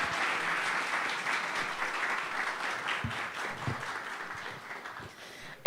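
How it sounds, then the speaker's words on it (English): An audience at the Building Bridges 2025 event in Dublin applauds volunteers and collaborators, steady dense clapping lasting several seconds at moderate volume, tapering slightly toward the end. "I want to first ask everybody to applaud all of the volunteers and collaborators for being here"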